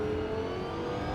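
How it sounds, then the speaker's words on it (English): A GT3 race car engine in the racing sim Assetto Corsa Evo drones steadily at a sustained pitch, loud and close, with no talk over it. "We're driving a GT3 car now."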